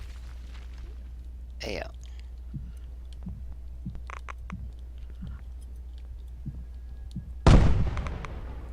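Two explosions in the Mars simulation game Take On Mars: a sharp blast early and a louder burst near the end, with soft thumps and clicks between them and a brief spoken word.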